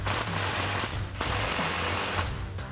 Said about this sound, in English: Switch back to our impact and 14mm socket and tighten our last 2 adjuster clamps.